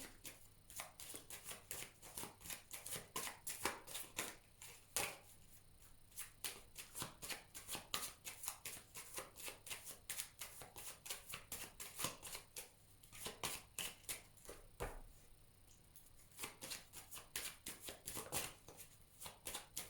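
Tarot cards being shuffled and cut by hand, a steady run of quick crisp riffling snaps and soft slaps that carries on close up and alone for the whole stretch.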